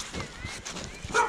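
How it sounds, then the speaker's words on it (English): A pet dog named Lizzie at home gives a short bark and yip, close by, over a soft background. "Calm yourself, dog."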